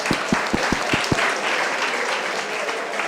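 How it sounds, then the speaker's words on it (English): An audience at a live hackathon event applauds, with a few loud close claps at the start leading into steady, dense clapping from the room that continues to the end. "Guys, a round of applause."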